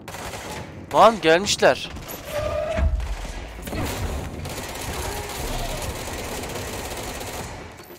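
Rapid bursts of gunfire from a weapon in the video game Control crack out in a quick cluster near the start, followed by a rumbling, noisy game ambience while a voice speaks briefly.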